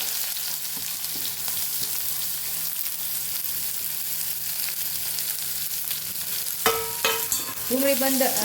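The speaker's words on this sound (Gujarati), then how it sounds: "અને આપણે ડુંગળીને ઉમેરી દેવાની છે" Chopped onions sauté in hot oil with cumin and asafoetida in a kadai, giving a steady, close sizzling hiss throughout, then a few sharp metallic clinks and scrapes of stirring near the end.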